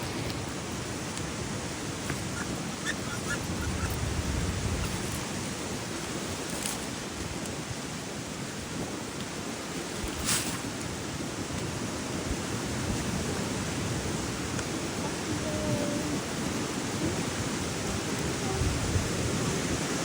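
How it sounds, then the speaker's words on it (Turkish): Strong wind roars continuously, a broad rushing noise with occasional gusts and buffeting against the microphone, with no clear speech. "Rüzgar bayağı sert esiyor."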